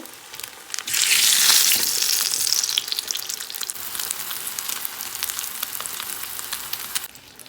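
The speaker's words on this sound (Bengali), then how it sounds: "এই যে বেগুনের চারটা ভেজে নিচ্ছি" Pieces of eggplant frying in oil in a pan, a loud close sizzle that surges right after they go in, then settles into a steady crackling fry, with no talk.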